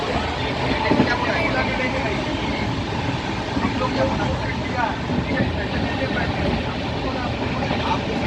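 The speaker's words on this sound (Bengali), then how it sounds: "এখন আবার এগোচ্ছে ট্রেন" A passenger train moving steadily between Raniganj and Asansol, heard from inside as a continuous loud rumble and rattle with faint voices mixed in.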